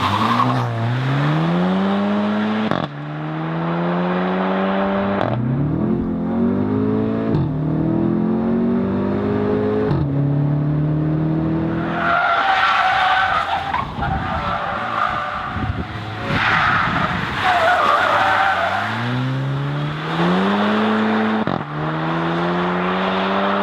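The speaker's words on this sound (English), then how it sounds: "So now it's time for driving. Driving on this little racetrack" A Skoda Octavia RS facelift accelerates hard around a small racetrack, its engine climbing repeatedly through gear changes, with tires squealing loudly through a mid-lap corner before the engine pulls up again.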